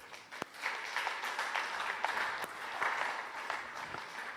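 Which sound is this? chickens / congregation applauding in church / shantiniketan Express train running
congregation applauding in church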